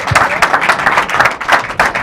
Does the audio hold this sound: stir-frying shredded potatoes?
no